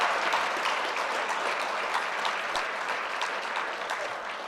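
A networking event audience gives a steady, full round of applause, dense clapping that holds evenly and tapers slightly toward the end, with no voices on top.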